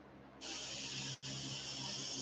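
Spray paint hisses through a stencil onto a crawfish fishing lure, a steady close burst with a brief break before resuming.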